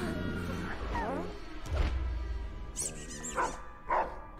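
Fluffy, the giant three-headed dog in the Lego Harry Potter video game, gives a few short barks and yips mixed with game music and sound effects, with someone talking over it.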